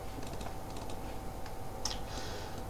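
Rapid, light clicking from Clicker Heroes gameplay, a run of small ticks with a couple of sharper clicks near the end, close and quiet over a steady background hum.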